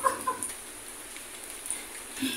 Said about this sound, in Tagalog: At ako'y magpapakain ng aming mga alagang manok.